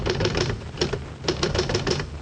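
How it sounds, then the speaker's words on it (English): Typewriter keys struck in quick bursts, with clusters of sharp, close clacks separated by a brief pause, loud and with no voice. "I'll type the expression out for you right now."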